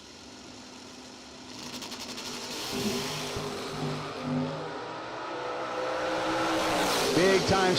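Drag race at a door slammer event with a 1980 Corvette chasing on the track, engines droning and swelling as they build toward a loud rising rev near the end, with an announcer talking over it.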